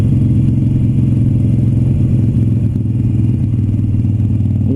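Motorcycle held in a curve by countersteering pressure, its engine droning loud and steady at close range throughout, with a slight dip in the middle and no talk.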